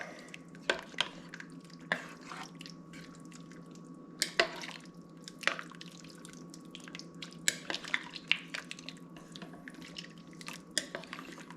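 A spoon stirs low carb pork stew in a pot, scraping and clinking against the sides at an irregular pace with wet, thick sloshing, close and moderately quiet, with no speech.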